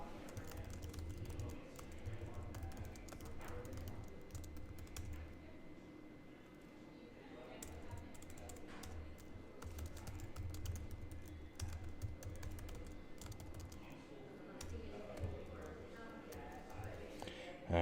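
Steady clicking of a computer keyboard as text is typed, close and quiet, with a continuous patter of keystrokes and a low hum underneath, no talk over it.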